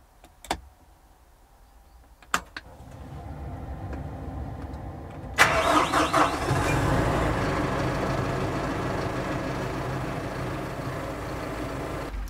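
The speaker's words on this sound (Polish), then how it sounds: "Spróbujmy więc odpalić ciągnik i zobaczymy," A Kubota M7171 tractor engine starts up after a few clicks and a cranking buildup, catching with a loud burst and settling into a steady, close idle rumble.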